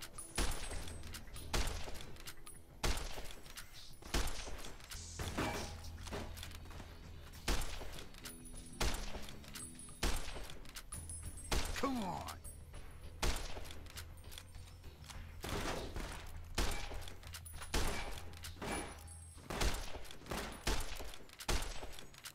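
Gunfire fills a firefight in Fallout New Vegas at a correctional facility, with repeated sharp shots and bursts in an irregular rhythm, some crashes and thuds mixed in, continuing loud and near throughout.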